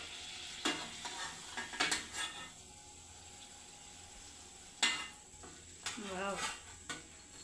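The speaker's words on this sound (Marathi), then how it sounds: "आणि उरलेल्या वड्यासुद्धा याच पद्धतीने आपण तळून घेऊ आता." Sambhar vadi fry in hot oil with a soft, steady sizzle, broken by sharp clinks and scrapes of a utensil against the pan and a few brief murmurs of a voice nearby.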